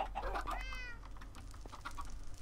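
A cat meows inside the Minecraft video game, a single short, faint mew set over a low hum and soft clicking noises.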